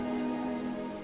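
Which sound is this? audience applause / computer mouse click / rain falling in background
rain falling in background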